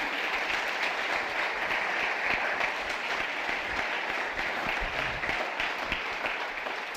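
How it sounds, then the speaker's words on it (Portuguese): A church congregation applauds during a sermon, with steady, dense clapping that carries on evenly for several seconds without talk. "Você pode aplaudir ele? Aplaude, ele é digno, ele é digno."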